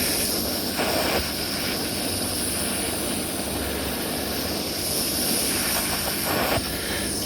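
A gas torch gives a loud, steady hiss that stays constant throughout, with slight swells as its flame is turned up and down with a wheel.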